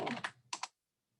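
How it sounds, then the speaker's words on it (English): A quick burst of keystrokes on a computer keyboard, several close taps in a short run, then silence. "I'm going to type in communication, public speaking,"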